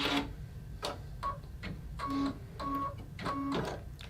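A Brother embroidery machine stitches in quick repeated bursts, its needle ticking and clicking in a steady mechanical rhythm, fairly quiet and close with no talk.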